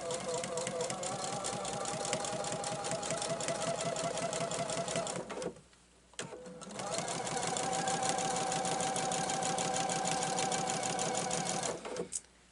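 A sewing machine chain stitches quilt binding strips in two long, steady runs, with a brief pause between them and a rapid, even mechanical stitching rhythm throughout.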